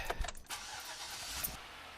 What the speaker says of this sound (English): Let's test it with the engine noise.